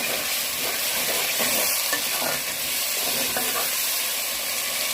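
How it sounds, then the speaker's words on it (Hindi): Tomatoes frying with garlic and ginger in a pan, stirred with a steady sizzle and soft scraping strokes, close and continuous, with no talking. "लहसुन अदरक को हमने 1 से 2 मिनट तक भून लिया और अब हम इसमें टमाटर ऐड करेंगे"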